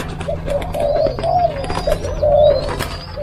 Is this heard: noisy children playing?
no